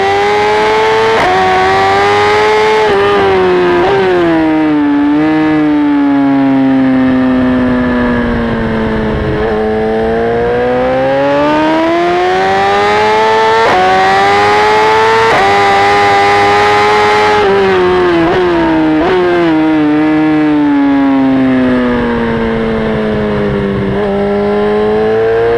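Aprilia RSV4 1100 and BMW S1000RR motorcycles race on the Le Mans track, engines screaming loud and close with rising and falling revs through repeated gear shifts and sweeping acceleration.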